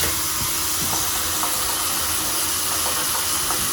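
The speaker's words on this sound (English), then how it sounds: "I'll turn the water on full blast and see how efficiently it drains" A bathroom sink tap runs at full blast into a clogged, slow-draining basin, giving a continuous loud rush of water that holds steady throughout.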